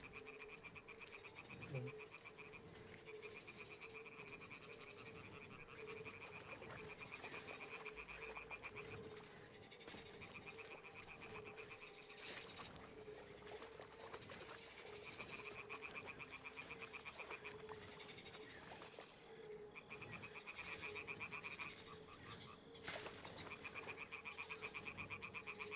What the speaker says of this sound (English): Toads are croaking here.